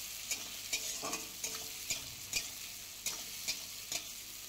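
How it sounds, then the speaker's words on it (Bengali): Chopped raw onions fry in a pan for a fish curry, a soft continuous sizzle punctuated by regular sharp scrapes and taps of a stirring spatula, fairly quiet and without voices. "এবার দিয়ে দেবো কুচনো কাঁচা পেঁয়াজ। ভালোভাবে ভেজে নেব।"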